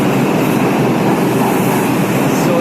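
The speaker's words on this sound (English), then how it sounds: "That's our next train." A subway train rumbles steadily on the line toward Battery Park during a transfer, a loud, continuous roar of wheels and car noise filling the whole stretch with no voices.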